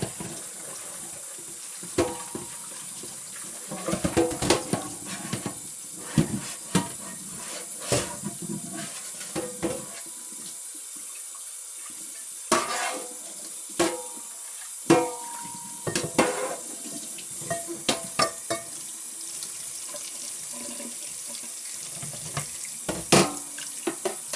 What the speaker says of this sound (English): I'll just go over it again with some soap and water just to make sure